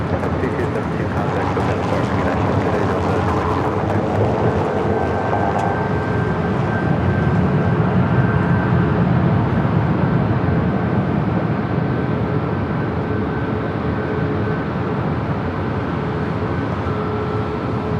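Airliner taking off from runway 24 left at LAX, a broad, steady jet roar holding loud and constant throughout, with faint tonal whine and radio speech mixed underneath.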